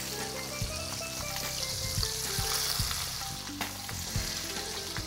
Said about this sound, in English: What I'm doing is putting the skin side down first into my really nice hot pan